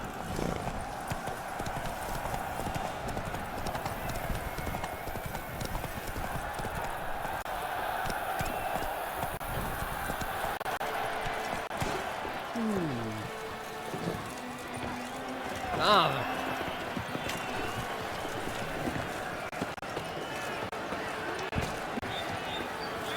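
Hooves of the horse Roach clip-clop at a gallop in the video game The Witcher 3, a steady rhythmic beat with a brief whinny midway, under game ambience and a voice.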